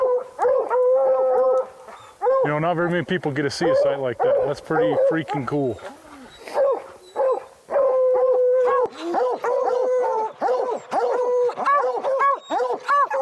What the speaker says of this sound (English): They hear them dogs and they're long gone.